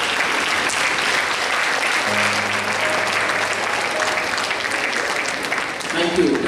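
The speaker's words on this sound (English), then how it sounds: "just turn around and give a big round of applause to your parents and your relatives" Sustained, dense applause from a large audience at a graduation ceremony fills the hall steadily and loudly, with a faint tone and brief voices near the end.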